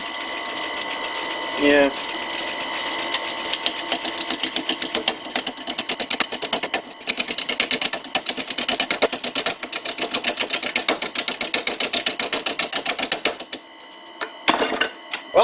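Oak blank spinning on a wood lathe's screw chuck at about 400 RPM, a steady continuous mechanical whir with a rhythmic tool-cutting rasp running throughout, fading briefly near the end; a voice speaks a single short word.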